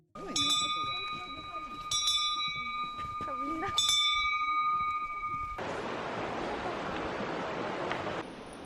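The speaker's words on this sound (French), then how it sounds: "Le sentier est même équipé de grosses cloches à ours que les randonneurs font sonner régulièrement." Bear bells rung by hikers on a mountain trail in Kamikochi, Japan: a few clear metallic rings, each with a long decaying tone, then a steady rush of nearby flowing water.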